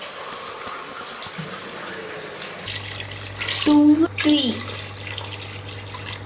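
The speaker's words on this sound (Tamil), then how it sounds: "அப்போ 3 டம்ளர்ஸ் தண்ணி ஊற்று." Water runs and splashes into a pressure cooker for a couple of seconds, with a low steady hum underneath and brief speech nearby.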